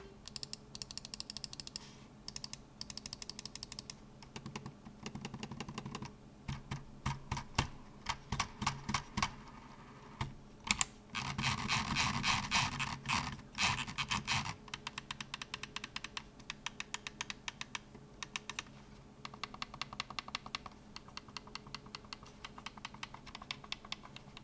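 Button clicks on a Logitech G604 gaming mouse, rapid crisp tapping in quick bursts with brief pauses, close and dry, including the raised DPI buttons by the left button.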